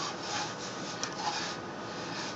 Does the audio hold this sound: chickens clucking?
no